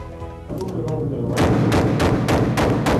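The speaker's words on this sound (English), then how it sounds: "Here, handguns are shot to test for accuracy as well as operation." Smith & Wesson handguns fire at a factory test range, a series of sharp, loud reports in quick succession after a brief lead-in, with a narrator's voice running over the shots.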